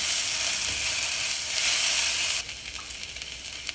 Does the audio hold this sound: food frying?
yes